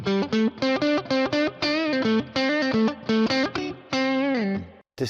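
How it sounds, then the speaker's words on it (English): Boss ME-90 multi-effects unit on its distortion setting, a DS-1-style fizzy drive on electric guitar, playing a loud run of chugging chords and sustained bent notes, alone with no voices. "Distortion."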